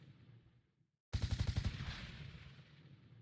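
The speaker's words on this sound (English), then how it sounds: "Gunshots rang out and people started screaming." After a brief near-silence, a sudden burst of rapid gunshots rings out in a visual novel game, a loud rattling volley that fades into a lingering echo.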